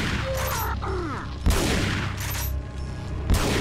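Shotgun blasts in Resident Evil 4 on PS2: two sharp broadband booms about two seconds apart, loud over continuous game ambience and scattered effects.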